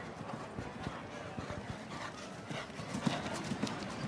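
Horse galloping around an outdoor show jumping course at a Nations' Cup event in Calgary, with steady clip-clop of hooves over ongoing background noise and a brief whinny-like sound near the end.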